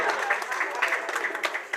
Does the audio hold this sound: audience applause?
yes